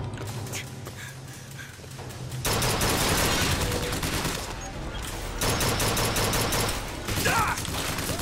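Chain gun fire in Bioshock Infinite, loud sustained rattling bursts of rapid shots with mechanical whirring, starting after a quieter stretch and carrying on with brief dips between bursts.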